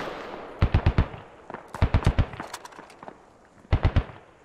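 Gunfire from a player shooting off a rooftop in the military shooter Squad, heard as short clusters of three or four sharp shots separated by pauses, moderately distant, with no talking.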